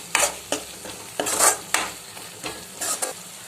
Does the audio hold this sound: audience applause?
no